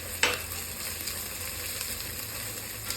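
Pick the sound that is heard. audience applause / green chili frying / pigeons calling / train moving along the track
green chili frying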